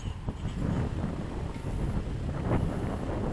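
Gusty wind buffets the microphone at a model airplane flying field, a steady broadband rush that swells and eases throughout with no voices.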